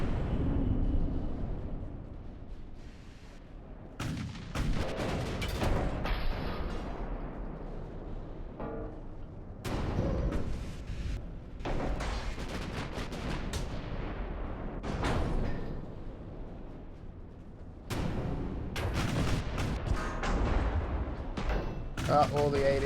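Naval artillery from Ultimate Admiral: Dreadnoughts, with 8-inch guns on a cruiser with seven triple turrets firing on a destroyer. Heavy booming salvos come in repeated loud bursts over continuous battle rumble, with a person talking throughout.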